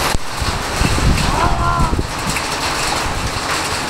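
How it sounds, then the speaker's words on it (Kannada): Strong gusting wind during heavy rain roars through areca nut trees in a village near Siddapura, a loud, rushing blast buffeting the microphone with a sharp thump near the start and continuous turbulent noise throughout. "ಸುಂಟ್ರ ಗಾಳಿ ಥರ ಬೀಸ್ತಾ ಇದೆ"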